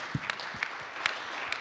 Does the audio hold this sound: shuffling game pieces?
no